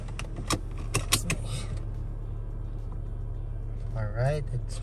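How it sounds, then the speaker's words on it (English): A seatbelt is pulled and fastened inside an idling 2016-2020 Honda Civic: a few sharp clicks and jangles over a low engine hum, close by, with a brief voice at the end. "I need to wear the seatbelt"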